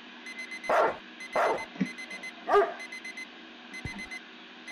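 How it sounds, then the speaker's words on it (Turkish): A dog barks several times in short, spaced bursts in the video game Streamer Life Simulator while a repeating electronic alarm tone beeps steadily in the background. "Köpek avlıyor."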